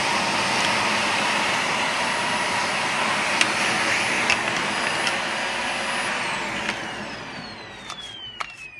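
A Dyson DC40 upright vacuum cleaner runs loud and steady with a blockage in the machine or nozzle, a constant whooshing roar with a few sharp clicks and rattles late on as the pitch shifts.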